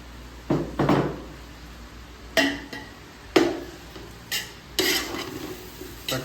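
A spoon stirs chicken masala with coriander, mint and green chilies in a pot for seeraga samba chicken biryani, making spaced, uneven scraping strokes against the metal, some loud and close, with no one speaking.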